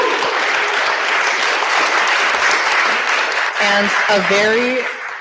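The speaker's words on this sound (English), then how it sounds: "I'm going to do one last round of applause for our incredible speakers." A town hall audience applauds its speakers with steady, full clapping. Near the end a voice speaks over the fading applause.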